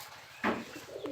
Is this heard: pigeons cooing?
yes